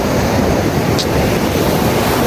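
Sea waves wash steadily onto a beach in Quezon, a broad continuous roar of surf close by with wind buffeting the microphone and no break in the rush.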